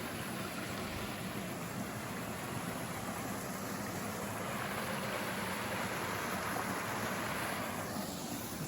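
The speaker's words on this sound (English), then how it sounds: "Looks like we're coming to our first little waterfall" A small waterfall on a creek, known as Sanka Falls, along the Pine Mountain Trail in F.D. Roosevelt State Park, gives a steady broadband rush of falling water, close and even throughout, with no voices.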